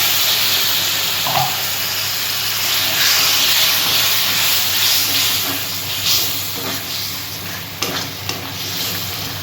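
Water used to rinse spices is splashed into hot spices and meat masala in a pan while cooking jackfruit kofta curry. It makes a bright, hissing sizzle that swells and fades in bursts, with occasional stirring scrapes.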